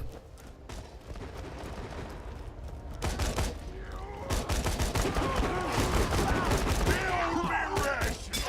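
Rapid bursts of gunfire in Borderlands 2 crackle steadily, growing louder and denser in the second half, with faint voices in the background.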